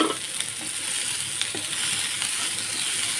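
Finely chopped big onions sauté in a pan for kothu parotta, giving an even, close, continuous sizzle with faint stirring ticks throughout.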